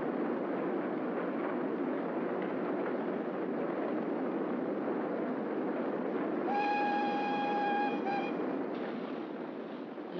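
A subway train runs with a continuous loud rumble and rattle, and a sustained horn tone sounds briefly near the end over the steady roar.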